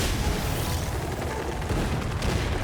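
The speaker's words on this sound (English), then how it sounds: "Explosions." Explosions in the Genshin Impact video game rumble as a dense, continuous roar of booming blasts, steady and loud throughout, with no talk.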